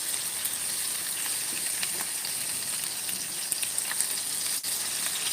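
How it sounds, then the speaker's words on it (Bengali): Capsicum pieces fry in a pan with a steady, even sizzle and hiss that runs throughout, close and unbroken, with no voices. "দেখো ক্যাপসিকামগুলোর কালারটা একটু চেঞ্জ হচ্ছে, একটু ভাজা ভাজা হচ্ছে, আর একটু হবে।"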